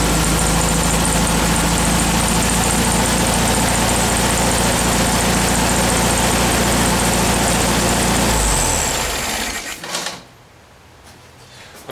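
A rough-running car engine idles steadily and loud while a test light is probed with a spark plug lead pulled off, a constant drone that cuts out near the end and leaves near silence.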